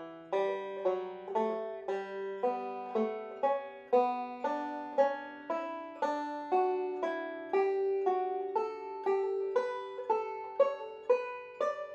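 A melodic-style scale in D played as broken thirds on a plucked string instrument, a steady stream of clear, evenly spaced notes rising and falling, close and alone.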